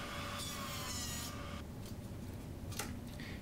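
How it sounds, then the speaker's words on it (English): Bassoon reed cane being gouged, a close raspy scraping stroke followed by quieter rubbing and a few short sharp scrapes, with no talking. "And here I am gouging."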